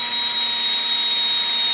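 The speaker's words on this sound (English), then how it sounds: "I just drill it on the spot here" A power drill bores an M3 hole in a puzzle build piece, giving a steady high-pitched whine with a constant tone, close and loud for a short stretch with no speech.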